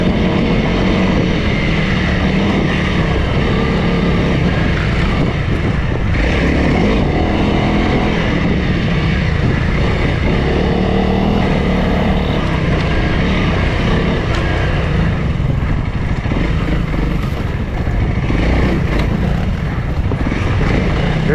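A Honda CRF300L dual sport motorcycle engine drones steadily and loudly throughout, ridden on a forest trail in British Columbia, with broadband rumble and wind that never drops away.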